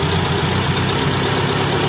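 Mitsubishi Colt SS engine idling with its fuel return hose pinched shut, a loud steady rumbling idle with even vibration close by, and no voices.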